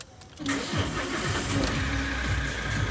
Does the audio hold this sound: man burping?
no